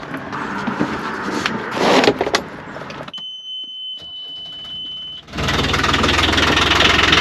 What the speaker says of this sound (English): let's see if the engine starts